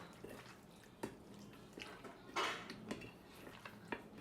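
Chicken being stirred with Shaoxing wine in a pan, a quiet series of utensil clinks and scrapes against metal with soft wet sizzling and dripping between the strokes.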